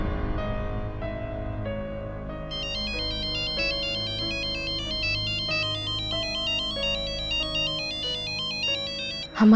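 A phone ringtone plays a steady, bright electronic melody for about ten seconds, loud and alone with no voices, with a brief click at the end.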